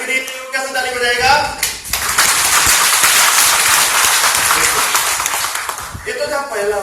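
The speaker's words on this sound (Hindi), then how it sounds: "और जिसे बीमारियां रखनी है वो कैसे ताली बजाएगा?" In the middle of a motivational talk, a room full of people claps in a dense burst that lasts about four seconds. A voice speaks just before the clapping and again after it fades.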